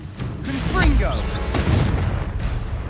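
Confringo blasting spell in Hogwarts Legacy bursts in a few heavy booms amid game battle noise, with speech-like voices mixed into the din.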